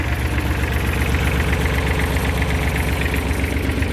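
A Kubota L3408 tractor engine from 2008 runs steadily at idle, a close, continuous low diesel rumble with a regular knocking pulse and no voices over it.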